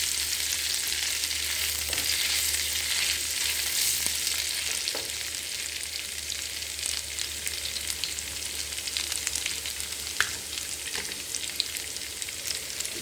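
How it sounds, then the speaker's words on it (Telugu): Ginger garlic paste fries in hot oil, giving a steady, close, continuous sizzle with a few faint stirring scrapes, with no voices. "ఈ అల్లం వెల్లుల్లి పేస్ట్ పచ్చివాసన పోయే వరకు కొంచెం సేపు వేయించుకోండి."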